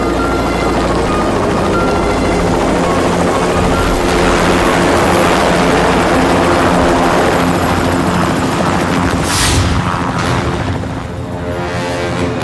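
A helicopter roars loud and close throughout, its dense rotor and engine thrum steady with a sharp whooshing swell near the end as it passes.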